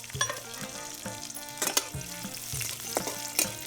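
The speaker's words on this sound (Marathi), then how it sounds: "आता अर्ध्या खोडलेल्या मिरच्या तळून घ्यायच्या थोड्या लसणाच्या पाका टाकून घेऊ" Halved green chillies frying in oil with garlic for a toor-bean amti, a steady close sizzle broken by a few louder scraping stirs, with no talking.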